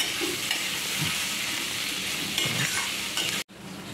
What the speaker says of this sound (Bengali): পেঁয়াজটাকে লাল লাল করে আগে ভেজে নেবো আমরা।